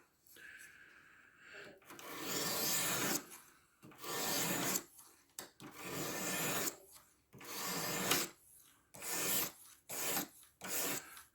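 A Spyderco SAGE 5 knife is sharpened on a Spyderco Sharpmaker, giving repeated rasping strokes of steel drawn over the rods, close and distinct, in bursts of one to two seconds with short pauses between.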